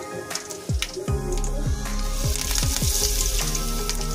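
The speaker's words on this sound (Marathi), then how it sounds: "त्यानंतर राई आणि जिरं टाकून घेऊया, कढीपत्ता टाकून घेऊया।" Mustard seeds, cumin and curry leaves crackle in hot oil with asafoetida, a bright hiss broken by a quick run of sharp pops and spits close by.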